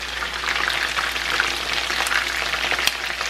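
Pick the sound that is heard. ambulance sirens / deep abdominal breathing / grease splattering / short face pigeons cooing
grease splattering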